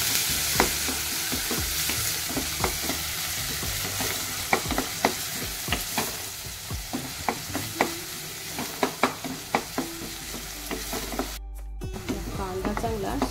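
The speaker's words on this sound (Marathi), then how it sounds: "कांदा आता मस्त शिजू द्यायचा।" Onion frying in a pan for a Maharashtrian field-bean curry, a continuous close sizzle broken by repeated sharp clicks and scrapes of a spatula stirring, with a brief metallic clatter toward the end.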